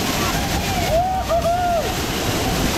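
A hidden waterfall's steady rushing water roars continuously, with a brief whistling tone rising and falling midway.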